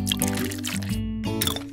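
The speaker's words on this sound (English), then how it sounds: "Let's pour them in the mold." A blended mixture of broccoli, avocado, kiwi and spinach is poured into a popsicle mould, a short wet trickle and splash heard close up, brief and alone.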